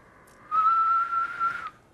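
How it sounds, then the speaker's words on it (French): A person whistles one steady, clear note through the lips, starting half a second in and holding it for over a second before stopping, with no voices around it. "Siffler, c'est assez facile."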